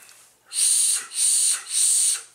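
Three loud, high, breathy whistles from a SnowWolf MFENG Orca vape tank with airflow closed to about half, in a steady rhythm, each a drawn pull of air lasting about half a second.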